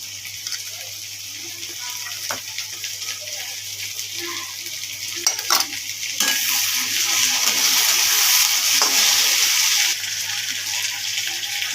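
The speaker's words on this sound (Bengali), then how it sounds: "টমেটো পেঁয়াজ ভাজা হয়ে আদা রসুন বাটা দিই।" Tomato, onion and ginger-garlic paste frying in a pan, giving a steady broadband sizzle that grows louder and denser midway, with a few faint clicks of stirring.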